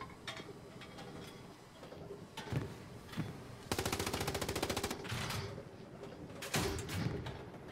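A tank's machine gun in the WWII shooter Hell Let Loose fires in sustained rapid bursts, loud and rattling, among scattered distant shots and battlefield noise.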